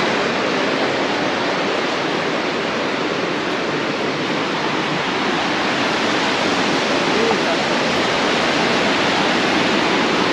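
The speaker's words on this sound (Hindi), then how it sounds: "ये है काली नदी" The Kali river at the India-Nepal border rushes loudly and steadily, a dense, unbroken roar of fast water that holds at the same level throughout.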